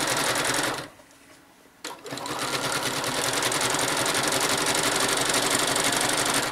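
A sewing machine running steady free machine embroidery stitches, a continuous rapid whirring chatter that pauses briefly near the start, then resumes loud and close for the rest.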